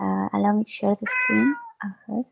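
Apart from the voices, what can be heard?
cat meowing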